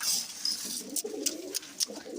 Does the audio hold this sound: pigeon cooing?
yes